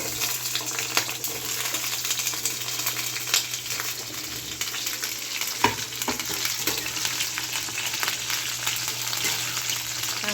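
Star fruit pieces frying in hot oil with ginger for a chutney, giving a steady, close crackling sizzle throughout, with an occasional louder stir or knock and no talking.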